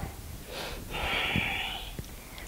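A short, soft sniffle and snort of breath through a stuffy nose during yoga breathing, a faint airy hiss rising once near the middle, heard close and quiet.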